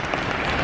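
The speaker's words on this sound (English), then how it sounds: "Yeah, we can applaud for that." Brief burst of dense audience applause at a comic convention industry talk, steady and fairly loud throughout the short moment.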